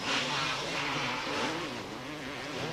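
Motocross motorcycle at a European Motocross Championship race in Portugal, its engine droning and rising and falling in pitch as it passes nearby, loud and continuous over open-air background.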